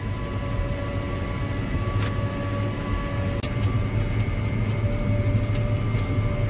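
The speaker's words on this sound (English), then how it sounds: "this is a dirt road we're going down, and the tires are spewing dirt" Car tires roll along a wet dirt road in early spring, flinging up damp dirt in a steady close rumble with faint engine drone, interrupted by a couple of sharp ticks.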